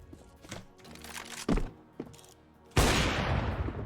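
Landing thud of a player character dropping down on the Vertigo map in CS2, a sharp thunk followed by a rushing crash of noise, with a few lighter footstep-like knocks before it.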